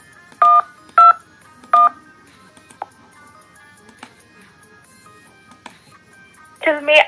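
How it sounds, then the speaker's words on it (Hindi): Phone keypad tones sound as a number is dialed in an Android dialer: three clear, short beeps in quick succession, then a few faint clicks, ending in a louder burst of tone. "तो हम नंबर डायल करते हैं।"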